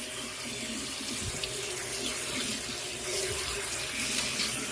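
Tap water runs steadily over cooked penne pasta in a strainer, a continuous close hiss and splatter with slight swells in flow and no talking.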